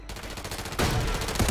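Rapid burst fire from an Uzi submachine gun in the Warzone video game, a close, loud, dense rattle of shots that keeps going and grows heavier partway through.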